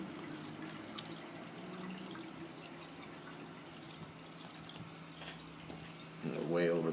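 Water pours steadily into a DIY reef tank sump with a soft, continuous rushing and splashing that swells near the end.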